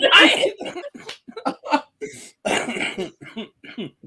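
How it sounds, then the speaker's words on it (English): A few short, harsh coughs break out among voices talking, with brief pauses between bursts. "Sorry, I'm coughing."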